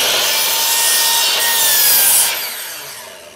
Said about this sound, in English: you come down with your saw blade and you want to just trim one to the other